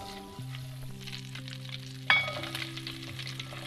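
Cumin seeds crackle and sizzle in a pan of butter with a little oil, a steady close frying hiss with a sharper burst of spitting partway through, no voices.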